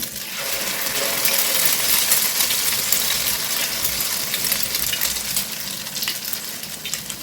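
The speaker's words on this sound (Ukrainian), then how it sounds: "Смажимо на середньому вогні" Steady, loud sizzling of potato pancakes frying in oil over medium heat, a continuous crackling hiss with no voices.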